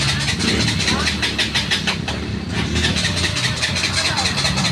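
A KTM 200 motorcycle with a dirty throttle body and a dead ignition coil is cranked repeatedly, the starter whirring loudly and rhythmically up close without the engine catching.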